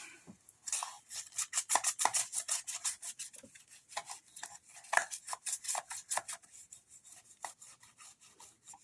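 Rapid rasping rubs of a bone folder or tool across a sealed paper envelope box, made with an envelope punch board, a quick run of short scraping strokes, close and clear, with no voices.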